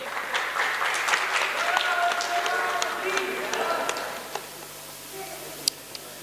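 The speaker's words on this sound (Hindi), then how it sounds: "ताली बनती है कि नहीं?" Applause from a crowd at a religious gathering, a dense burst of clapping that fades out after about four seconds, leaving a few scattered claps and quiet room noise.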